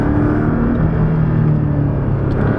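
A Porsche Cayman S with a turbocharged four-cylinder engine drones at a steady, loud pitch, holding high revs toward about 8,000 rpm as a continuous close rumble with no talking.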